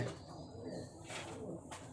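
Pigeons kept in a home loft coo softly, with low, rounded, throaty calls rising and falling in a short burst, quiet and a little distant.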